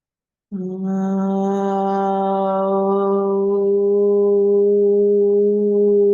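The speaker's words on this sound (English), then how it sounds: "Make the sound of Om." Voices hold a long, steady low hum like a sustained Om chant, starting abruptly and droning evenly for several seconds.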